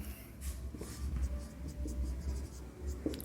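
Pen or chalk strokes on a board during a geometry lesson on circles, a quiet run of short scratchy marks with small pauses and a sharper tap near the end.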